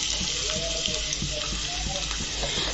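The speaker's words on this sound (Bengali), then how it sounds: "এরপরে আমি দিয়ে দেব কুচানো পেঁয়াজ।" Chopped onions hit hot oil for a brinjal and potato curry, making a continuous, even sizzle and hiss that stays close and steady throughout.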